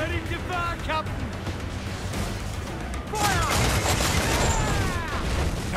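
Heavy ship cannon fire in the Assassin's Creed Black Flag video game, booming volleys at sea amid rough weather, loud and continuous, with game-character voices shouting over the barrage.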